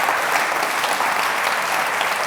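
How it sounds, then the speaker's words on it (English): Audience at a community awards evening applauding, a dense, even wash of many hands clapping at steady loudness throughout, close and full, with no talking over it. "So another round of applause for Sue there."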